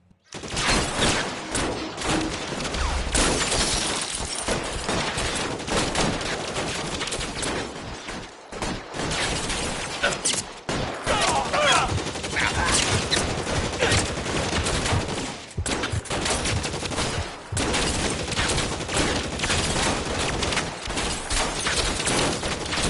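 Heavy gunfight in the crime game L.A. Noire, with dense, nearly continuous volleys of gunshots and automatic fire. Brief lulls break it, and voices occasionally come through under the shooting.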